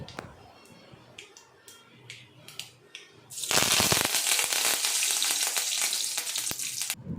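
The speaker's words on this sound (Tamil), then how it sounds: "இதில் கடுகு உளுத்தம்பருப்பு போட்டு கருவேப்பிலை சேர்த்து தாளித்து ஊற்றிட்டோம்னா" Mustard seeds, urad dal and curry leaves hit hot oil for a tempering, breaking into a loud, steady sizzle and crackle after a few seconds of quiet kitchen sounds, then cutting off near the end.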